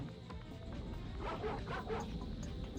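A roomful of dogs in the video game Ratchet and Clank barks and yips in a dense, overlapping clamour over a continuous game background, with no talking.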